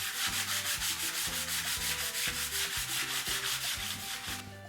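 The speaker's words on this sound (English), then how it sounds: "Most important thing now is to give the whole board a good old-fashioned sanding." Hand sanding of a wooden board for a peg hat rack, a close, steady rhythmic rasping of back-and-forth strokes, evenly paced and continuous with no talk.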